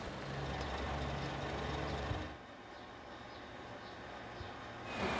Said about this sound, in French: Arrivé à la fromagerie, le camion est pesé.